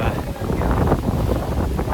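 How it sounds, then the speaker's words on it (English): Strong winter wind outdoors in the Bahamas buffets the microphone with a continuous loud roar and gusty rumbling that fills the whole moment. "wind is out in full force"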